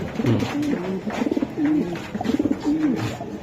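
Budapest racer pigeons coo close by in repeated throaty, rolling phrases, several calls in a row with a brief gap between each, alone and without speech.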